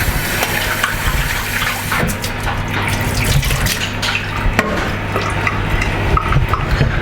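Hand-dived Norwegian scallops rinsed under a running tap in a restaurant kitchen, a loud, continuous splash and gush of water with shifting spatter as the shellfish are handled, no voice.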